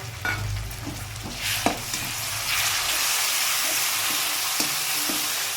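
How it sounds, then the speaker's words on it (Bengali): Tomato paste and spices fry in a pan for a cabbage kofta curry, a spoon stirring and scraping through the mix with soft knocks while a loud, dense sizzle swells and then holds steady, close up and without voices. "টমেটোটা দিয়ে মশলা দিয়ে আমি ভালো করে কষিয়ে নেবো"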